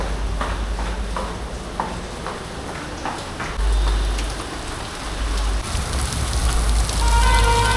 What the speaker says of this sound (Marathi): भरपूर पाऊस पडतोय.